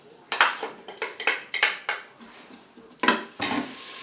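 Three chopped shallots in olive oil in an Instant Pot EVO on high sauté, heard as a series of sharp clinks and scrapes of a utensil against the pot over a faint frying hiss, close by.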